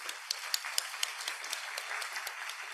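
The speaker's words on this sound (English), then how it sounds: "Everyone, let's give him a round of applause," Audience applause at a lecture event on Aristotle and Greek tragedy, a light, thin patter of scattered claps from a modest crowd with a few sharper individual claps standing out.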